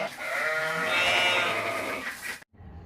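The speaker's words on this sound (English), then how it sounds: "look at this very amazing yellow sheep here" A sheep bleats loudly and close, one long wavering cry sustained for over two seconds with no talk, then cut off abruptly.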